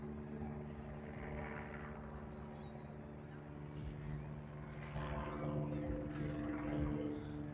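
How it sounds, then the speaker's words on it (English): A helicopter drones steadily overhead in Chicago with a low rotor rumble, moderately distant, while faint voices murmur in the background. "We got a helicopter doing its thing above us."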